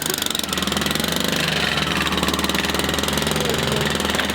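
A Bajaj auto rickshaw engine runs close by with a steady, rapid, knocking putter, loud and rough throughout, with no voices.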